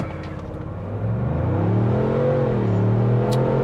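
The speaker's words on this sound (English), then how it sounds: "Engine makes a nice sound." The V6 engine of a 2024 Ford Bronco Heritage Limited with a 10-speed gearbox rises in pitch during a brake-torque launch, a close, steady growl that climbs and holds, heard alone.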